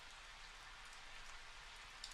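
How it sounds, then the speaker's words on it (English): Steady rain falling in a visual novel game scene, an even, dense hiss of drops on surfaces that stays constant and fairly soft throughout, with no voices. "It seems like it will continue to rain for a while."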